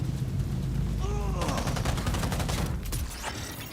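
Automatic gunfire from turrets in the video game Cyberpunk 2077, a rapid string of rattling shots in bursts that grow dense in the middle, with a voice briefly heard beneath the shooting.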